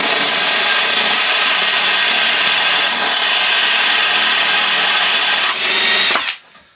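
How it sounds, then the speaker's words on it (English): A power drill grinds loudly and steadily straight down through a wooden board for about six seconds, its pitch shifting slightly near the end before it abruptly stops. "just put it into the hole, and just drill straight down"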